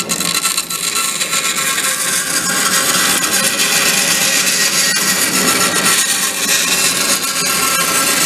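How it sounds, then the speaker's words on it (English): A bandsaw cuts through wood for a guinea pig pen, producing a loud, continuous whining buzz with rough grinding texture from the blade in the cut, close by and steady throughout. "We'll do that on a bandsaw."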